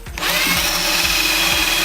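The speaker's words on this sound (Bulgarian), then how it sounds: "ще пробием един отвор в фибростъклото, в който всъщност ще ляга" A power drill bores a hole through fiberglass for a subwoofer speaker mount, running loud and steady with a continuous whine after a brief start.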